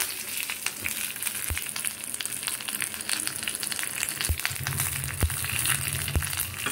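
Curry leaves crackling in hot oil alongside fried dried red chillies, a dense close sizzle broken by sharp spitting pops and faint stirring, with no speech.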